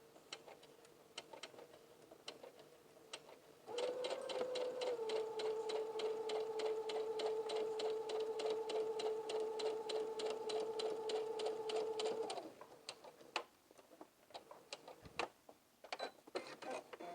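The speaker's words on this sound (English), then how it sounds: "I'm going to back stitch and still secure it" A home sewing machine back-stitches the top stitching on a garment's center back pleat. It runs as one steady, even whir for about eight seconds, with soft ticks and clicks before and after.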